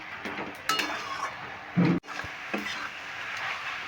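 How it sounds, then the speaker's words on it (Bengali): Spinach and winter vegetables being stirred and sautéed in a pan, heard as a few distinct scraping clanks and knocks of a utensil against the metal, with a louder scrape just before a sharp stop, close and otherwise quiet. "এইভাবে নেড়ে চেড়ে আমি পাঁচ মিনিট মতন কষিয়ে নিচ্ছি"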